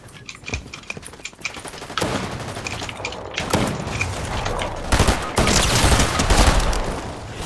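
Rapid gunfire in the video game Fortnite, with bursts of shots and thumps going on throughout, close and loud and growing denser toward the end.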